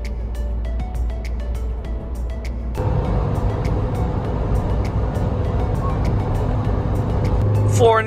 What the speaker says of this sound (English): Flooring the Jimny again.